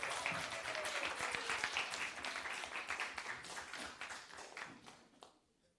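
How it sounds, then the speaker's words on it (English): Audience applause at a student council meeting, a dense steady clapping from a room full of people that fades out over the last second. "Let's give her a round of applause."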